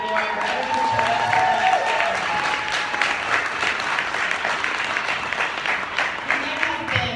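Sustained applause from a seminar audience, dense and steady clapping filling the room at close range for the whole stretch, with some faint voices mixed in.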